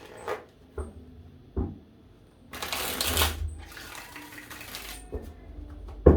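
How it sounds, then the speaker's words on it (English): A few soft taps, then a dense burst of tarot cards being riffled and shuffled for a couple of seconds, fading into quieter rustling and ending with a thump. "I'm gonna give this 3 shuffles"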